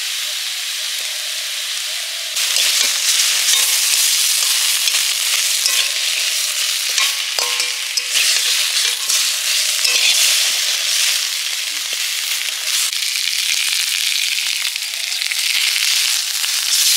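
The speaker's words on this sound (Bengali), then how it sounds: "পেঁয়াজ বাটা দিয়ে মাছ ভাজা হয়ে গেছে, নামিয়ে নিচ্ছি।" Fish frying in a kadai with onion paste, a loud, dense, continuous sizzle that jumps up after the first couple of seconds and crackles steadily, with no voices.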